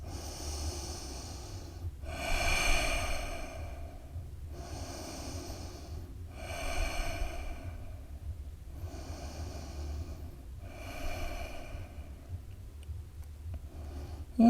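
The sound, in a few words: deep breathing during yoga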